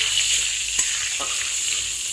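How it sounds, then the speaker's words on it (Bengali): Black cumin seeds and a dried red chilli sizzle steadily in hot mustard-style oil for a fish dish, a close, even crackle with a few faint clicks of stirring and no speech. "সেই তেলে আমি একটু কালো জিরে ফোড়ন দিয়ে দিচ্ছি।"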